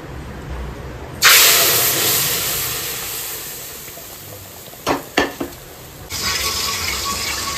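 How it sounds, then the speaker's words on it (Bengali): Tempering spices hitting hot dal, a sudden loud hiss and sizzle that slowly fades, broken by a few sharp clinks of utensils, then a renewed sizzle near the end. "এবার এর ভেতরে ফোড়ন দেবো।"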